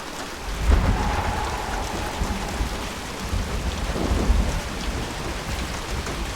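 Steady rain hiss with deep rolling thunder rumbles inside a video game, a low boom near the start and another swelling rumble later, the downpour constant throughout.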